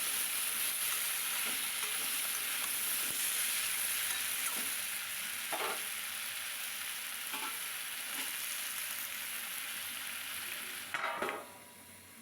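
Ridge gourd sautés in a covered pan over low heat, giving a steady, soft, continuous sizzle with a few faint stirring taps and no talking.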